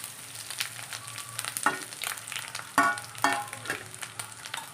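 Grated coconut roasting in a pan with urad dal and dried red chillies for a colocasia leaf and raw banana curry: a steady close sizzle broken by several sharp scraping stirs of a spoon.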